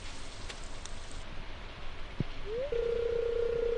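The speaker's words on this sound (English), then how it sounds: "A warm rain is a pleasant way to get clean." Steady soft rain patters in the Stardew Valley video game, a continuous hiss with no talk. A short blip and then a sustained electronic tone come in near the end.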